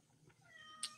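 A pet cat gives a single short meow close by in a quiet indoor room, rising briefly and ending quickly.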